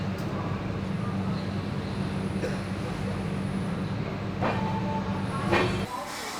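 The Duronto Express from Pune to Howrah rolls steadily along, giving a continuous low rumble with faint clicking and a few squealing wheel accents. It is heard from inside the train at moderate loudness, with no speech.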